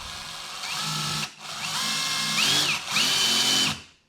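A Craftsman V20 cordless drill drives small decking screws into hardwood in two loud, steady bursts of motor whine that rise in pitch, with a brief pause between them and a clean stop at the end.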